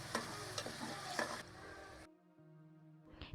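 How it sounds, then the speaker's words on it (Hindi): Boiled onions frying in hot oil for chicken karahi, a dense sizzle broken by the clink and scrape of stirring, which fades out after about two seconds into a quieter, steady tone. "प्याज हमारे फ्राई हो चुके हैं"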